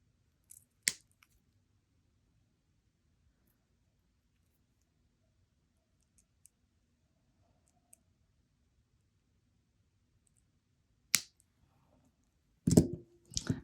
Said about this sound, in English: I'm going to cut off the wire,